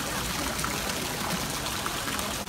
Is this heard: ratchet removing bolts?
no